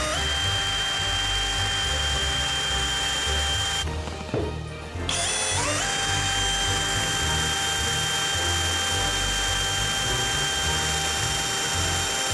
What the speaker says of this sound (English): Now we're going to test the power drill on a very hard piece of koa wood.